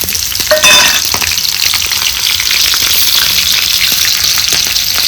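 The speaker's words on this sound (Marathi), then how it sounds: "आता ही मिरची आपल्याला तळून घ्यायच्या. तर ह्याच तेलात टाकते मी." Green chillies fry in hot oil for bhaji, a loud, steady, close sizzle with crackling spatter and a brief clink near the start, with no voices.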